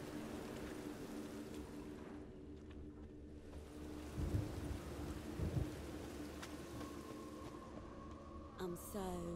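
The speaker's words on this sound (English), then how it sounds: "Well, it is raining." Steady rain pours in The Witcher 3 with low rumbles of thunder rolling beneath it, a continuous wet hiss that swells at moments, with game sounds briefly near the end.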